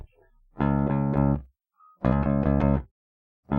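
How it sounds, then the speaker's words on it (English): Two sustained bass guitar notes, a dry DI signal played clean, each ringing about a second with a short gap between them, and a third note starting at the end. "This is the DI signal."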